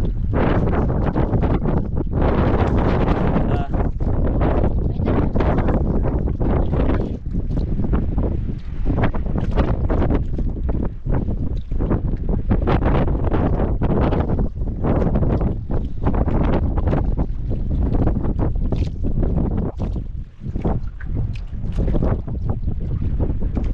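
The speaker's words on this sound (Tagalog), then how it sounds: "Bugso na naman yung hangin." Heavy wind gusts sweep across the sea near a small boat, a continuous loud roar and buffeting against the microphone with no letup, and no voices.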